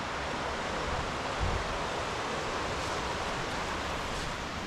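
A river flows in the distance beside a trail, a steady broadband rushing wash with no breaks, even and moderately loud throughout.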